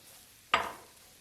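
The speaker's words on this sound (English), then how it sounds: "Stir a little bit." A single brief scrape of a spoon stirring spices and chopped zucchini in a pot, a soft close clatter that quickly fades into quiet.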